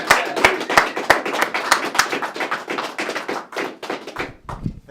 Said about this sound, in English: Give a big round of applause for Mr. Justin Going